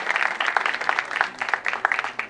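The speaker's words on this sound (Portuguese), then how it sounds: "uma salva de palmas mais uma vez pra ele aqui" Applause from the crowd at an MC rap battle cypher, a dense run of many hands clapping with some louder individual claps standing out, fairly close and steady for the whole stretch.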